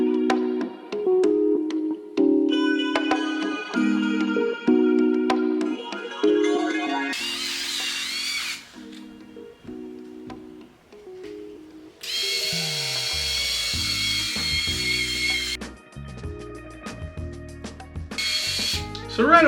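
A Skull Shaver Pitbull Silver Pro electric shaver buzzes across a head with five to six days of stubble, coming in a few loud, high whirring bursts between steadier tonal sounds.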